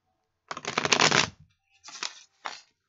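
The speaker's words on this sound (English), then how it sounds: "Riffle shuffle." A close, crisp burst of a tarot deck being riffle shuffled, followed by two shorter flutters as the deck is squared.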